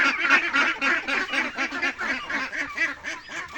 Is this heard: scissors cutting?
no